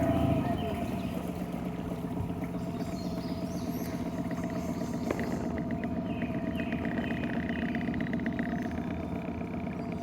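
Shanty boat motor running steadily on a river after logs were cleared from it, a constant low drone throughout, with faint bird chirps in the background.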